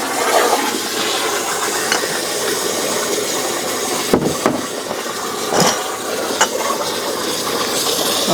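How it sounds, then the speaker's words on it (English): Water rushes steadily into a large canning pot holding empty glass jars, set up for water bath canning of tomatoes. The flow makes a continuous hiss with a few brief clunks along the way. "And thank you, Mark, if you want to fill that up with water."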